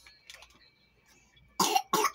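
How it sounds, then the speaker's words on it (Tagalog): A baby coughs twice in quick succession after a quiet stretch with faint background sounds, the coughs sharp, close and loud. "Inuubo ang baby ko."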